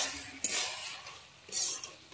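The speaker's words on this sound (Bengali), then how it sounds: "এবারে ভালোভাবে নেড়ে নিচ্ছি" Cabbage curry with hilsa fish head is stirred in a pan, giving two soft scraping sweeps over a faint, low sizzle, fairly quiet and without speech.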